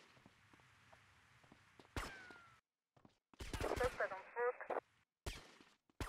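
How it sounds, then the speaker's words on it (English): Gunfire in Grand Theft Auto: Vice City: sharp, fairly loud bursts of shots with abrupt cutoffs and silent gaps, over a faint ambient hum, with someone speaking in between. "I don't know who's shooting at me, but... someone's trying to."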